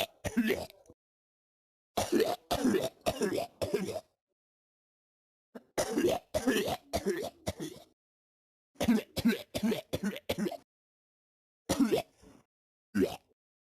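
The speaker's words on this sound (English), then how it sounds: "Today I'm gonna be fake coughing." A boy fakes a string of coughs alone in a quiet room, in short harsh clusters of three to five coughs separated by silent pauses, close and fairly loud.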